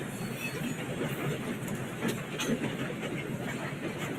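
A video game train rolls along at a steady pace, with a continuous rumbling clatter of wheels on track and faint squealing, moderately quiet and uninterrupted.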